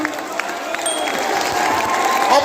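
Audience applause and cheering at a crowded motivational seminar, a steady dense wash of clapping with scattered whoops that swells slightly toward the end, close and sustained throughout.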